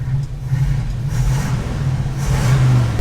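Engine of a 1957 Chevy 3100 pickup with a faulty accelerator pump, revving loud and close with an uneven, hesitant rise and fall.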